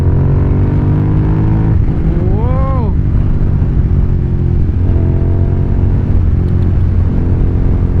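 A Suzuki TL1000R V-twin motorcycle engine is heard up close as a loud, steady low rumble, with one quick rev that swoops up and back down midway. Wind noise runs beneath it throughout.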